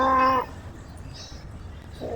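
A video game kitten's high, harmonic meow, short and clear, followed by another starting at the end, over a low steady background hum.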